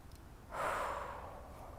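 A single deep, slow breath drawn in audibly through the nose during a guided yoga breathing exercise, close and soft but clear, a rising airy rush lasting about a second with no talking.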